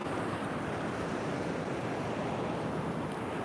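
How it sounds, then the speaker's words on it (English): Strong wind roaring across the open shore at Laguna Beach, a steady broadband rush buffeting the microphone with surf mixed in, constant and loud for the whole stretch with no voices. "Today is very windy. It's such a windy day."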